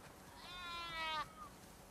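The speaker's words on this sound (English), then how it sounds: "We definitely have way too many sheep." Single sheep bleat from a farm in The Last of Us Part II video game, one wavering, nasal call about three-quarters of a second long, moderately near over a quiet background.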